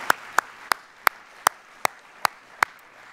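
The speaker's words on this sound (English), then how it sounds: "I think they deserve another round of applause for the programme as well." Slow, evenly spaced single claps ring out at a sports awards ceremony, about eight crisp hand claps roughly a third of a second apart over a low room hush, with no dense crowd wash.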